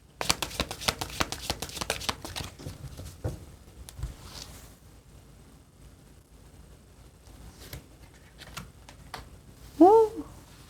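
Tarot cards are shuffled in a rapid, crisp flurry of riffling flicks up close, then a pause with a few soft card taps and a short spoken exclamation at the end.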